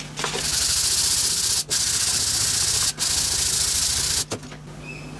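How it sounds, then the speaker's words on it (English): Abrasive sanding of cast brass machinist hammers, a loud continuous close rasping hiss broken by three brief pauses as the work is repositioned, with no talking. "what we'll do now is give that a sand, and we'll do this one here at the same time"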